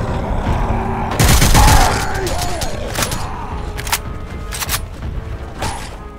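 Assault rifle fire in Left 4 Dead 2 comes as a loud burst of rapid shots, followed by scattered sharp single cracks and bursts over a busy game soundscape.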